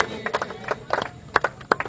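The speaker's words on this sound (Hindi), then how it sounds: "तालियां होनी चाहिए यार, तालियां होनी चाहिए, तालियां" Scattered hand claps from a small crowd at a prize ceremony after a big final match, arriving in irregular bursts of moderate loudness with gaps between them.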